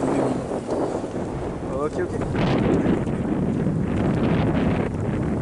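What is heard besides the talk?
wind blowing on a snowy day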